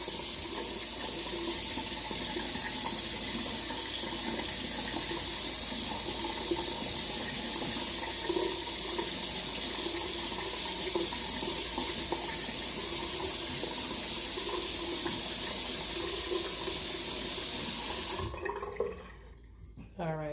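Warm water pours from a sink tap in a steady close hiss while a wash rag is wetted, then stops abruptly near the end, leaving a few quiet drips and handling sounds.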